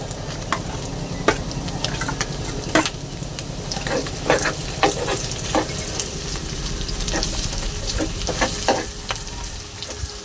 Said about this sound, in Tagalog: So dito na rin po natin igigisa sa sarili niyang mantika.